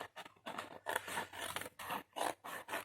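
Scissors cutting material for a large document holder: a steady series of rhythmic snipping and rasping strokes, close and clear, with no voices.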